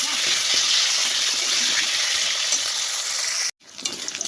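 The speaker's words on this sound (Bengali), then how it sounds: "মাংসের আলুগুলো ভালো করে ভাজে নেবে" Potato pieces fry in hot mustard oil in a kadai for a meat curry, a loud, continuous bubbling sizzle that cuts off abruptly near the end before faintly resuming.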